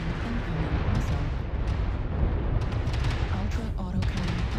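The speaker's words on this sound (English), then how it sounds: "Warning, incoming missile." Missile impacts and cannon fire from the MechWarrior Online video game, with a Blood Asp-A mech in combat, rumble as dense, continuous explosive booms at steady loudness, crackling bursts near the end, under an automated warning voice.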